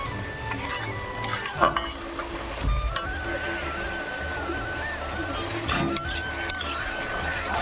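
Spice paste being stirred and sautéed in a pan for a meat curry, with steady scraping and soft sizzling throughout, punctuated by a few louder clinks of the utensil against the pan.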